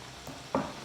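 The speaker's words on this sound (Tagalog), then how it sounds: "Hahaluin ko lang muna." Humba, Filipino braised pork with soy sauce and salted black beans, stirred in a pan gives a short sizzle and one scraping stir that rises briefly, close and clear.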